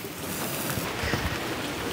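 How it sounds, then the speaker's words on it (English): Steady rain falls outside with a continuous, fairly loud hiss of drops pattering on surfaces, with no voices. "still raining"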